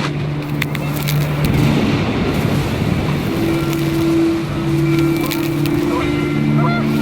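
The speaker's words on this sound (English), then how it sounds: "The wind picked up, and panicked geese appeared and quickly went." Panicked geese honk in the video game What Remains of Edith Finch, several calls rising over steady wind and water noise, moderately loud and blending with a lingering low tone.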